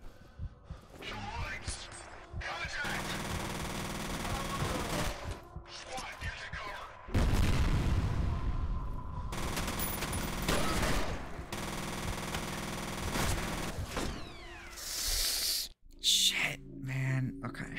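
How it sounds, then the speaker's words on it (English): Enemy gunfire in the video game F.E.A.R. crackles through dense bursts and fusillades, loud and near, with heavier booms and chaotic combat noise filling the scene while a voice talks over it. "I don't know how they're even shooting at us"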